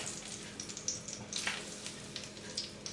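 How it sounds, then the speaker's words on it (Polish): Faint, continuous crackling sizzle of minced meat patties frying in a hot pan over reduced heat, with small pops scattered throughout and no voices. "Smażymy na zmniejszonym płomieniu"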